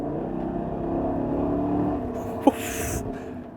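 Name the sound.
2021 Chevrolet Tahoe engine accelerating to pass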